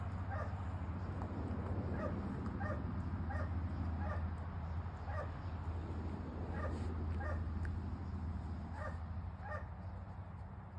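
A puppy whimpers and yips in repeated short high bursts over a steady low background hum, with no one talking.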